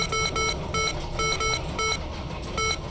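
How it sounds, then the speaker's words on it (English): Computer in the horror video game Stay Out of the House giving off loud, repeated electronic beeps in quick pairs and runs, piercing and regular over a low background hum. "He doesn't hear the loud beeps in the computer"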